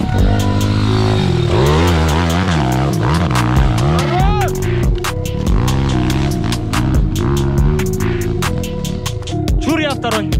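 Loud motor vehicle engines running and revving at night in a forest, with rising and falling pitch sweeps and rough throbbing throughout, while voices talk over the engine noise.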